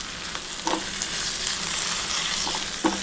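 Chillies frying on a low flame for masala noodles make a continuous close sizzle with a few light clinks and stirring scrapes, and no one speaks.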